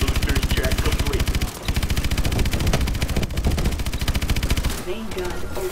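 Rapid mechanical main-gun fire in the video game Call of Duty Advanced Warfare, a loud continuous automatic burst with a brief break near the start and a change near the end, with game voice lines over it.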